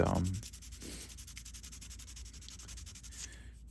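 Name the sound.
hand sanding resin and wood knife handle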